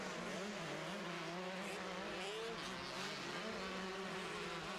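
Motocross bikes at a state title race screaming down a hill and through braking bumps, a steady high whining engine drone with shifting pitch from several machines at mid distance.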